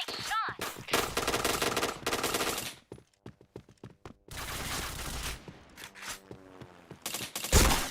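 Video game gunfire in rapid bursts of automatic shots, loud and close, broken by short pauses with scattered single shots and scraping, and no talking.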